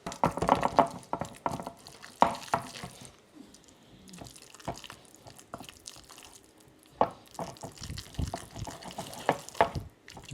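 Lemon juice drips and splashes into homemade pesto in a kitchen. There are several close, irregular wet pours and drops with quieter gaps between them.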